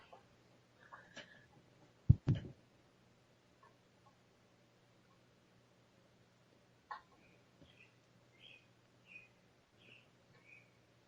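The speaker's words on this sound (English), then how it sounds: "Yours can listen to the birds." Small birds chirp faintly outside, a scatter of brief high calls in the latter half over a quiet background, with a couple of sharp close knocks early on.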